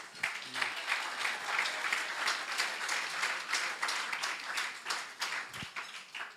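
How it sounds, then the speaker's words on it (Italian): A church congregation at a bilingual Italian-English service breaks into applause, with dense, sustained clapping from many hands continuing evenly and moderately loud from start to finish. "Facciamolo questo applauso"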